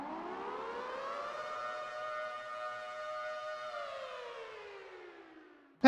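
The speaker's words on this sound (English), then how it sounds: "I did sound the air raid signal again" An air raid siren sound effect wails steadily and loud, holding a rising, sustained tone for several seconds before sliding downward and cutting off abruptly.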